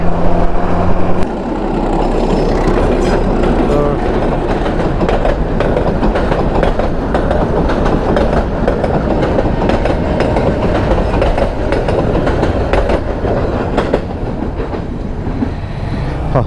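A train rolls past a railway level crossing near a city in northern Bangladesh, a loud, continuous rumble with steady clickety-clack of wagons over the rails, close by and sustained throughout.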